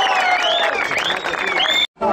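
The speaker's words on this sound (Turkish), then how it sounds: "Bir alkış daha istiyorum size." Loud applause and crowd noise from an audience at a public speech in Şanlıurfa, with voices mixed through it, cutting out abruptly near the end before resuming.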